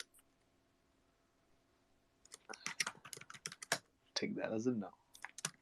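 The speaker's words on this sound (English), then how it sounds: "Who's smacking on keyboards?" Quick clicks of fingers typing on a computer keyboard, heard over an online voice chat in a clustered burst, with a short spoken line cutting in near the end.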